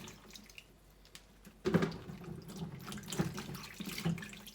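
Cleaned wild honey mushrooms being rinsed under running water in a sink, a steady tap flow with splashing and a few louder sloshes as the mushrooms are handled, close by and with no talking.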